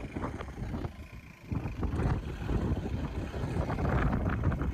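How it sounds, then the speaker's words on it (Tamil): Strong wind at a hilltop viewpoint on a jeep safari route, a steady loud rushing roar buffeting the microphone throughout, with gusting surges and no talk. "காற்றும் ரொம்ப நிறைய அடிச்சது"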